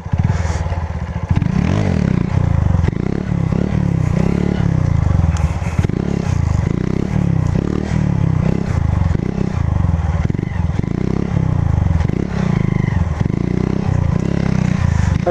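A Honda CG Fan 150 motorcycle turns a slow donut, its engine holding a steady, loud, close idle-to-mid drone with rhythmic pulsing and faint scraping throughout.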